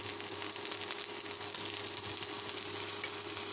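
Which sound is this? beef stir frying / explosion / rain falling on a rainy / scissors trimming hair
beef stir frying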